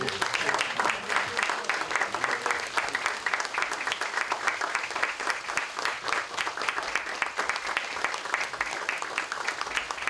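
An assembled party meeting breaks into sustained applause for a bouquet presentation: many hands clapping in a thick, even roar that holds at full strength throughout.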